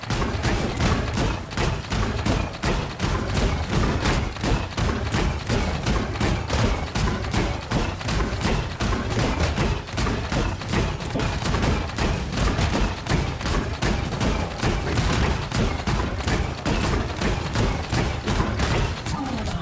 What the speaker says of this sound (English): it takes too much to shoot those guys